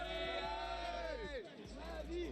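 Esports fans at the Starladder Budapest Major 2025 grand finals between Team Vitality and FaZe Clan cheer and shout in a dense, loud crowd roar, with whooping voices close by.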